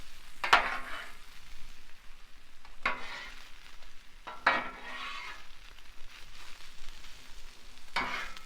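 Egg and vegetables sizzle together on a Blackstone griddle for fried rice, a steady frying hiss broken by a few sharp metal spatula scrapes and stirs, close and moderately loud with no talking.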